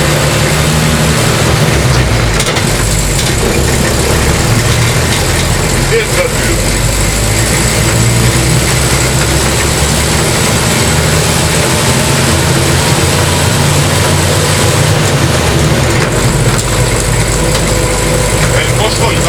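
Truck engine running steadily while driving on the road, a loud continuous drone with low rumble throughout, someone speaking briefly over it.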